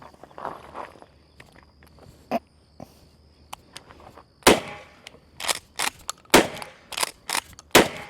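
Sharp, loud shotgun blasts from a test of shotgun shells, roughly six rapid reports in an irregular rhythm after a few quieter clicks and handling noises, with no voices.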